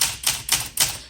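Keys of a 1965 Olympia SM8 manual typewriter struck in three sharp, close, loud clacks at an even pace, each with a bright metallic snap and short ringing decay, with no voices.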